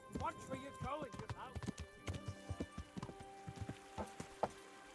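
Horse hooves clip-clop in a video game, a brisk, irregular run of hoof strikes heard up close. A whinny-like call and game sound effects are woven through, and people talk over them.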